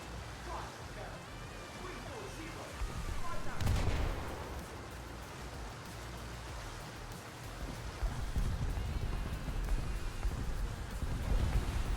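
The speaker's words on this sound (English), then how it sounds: "That's artillery." Artillery fire in the War Thunder video game, a dull distant boom rising around the middle of the clip over a constant rumbling, rain-like wash of battle noise, with a second swell of low rumble later.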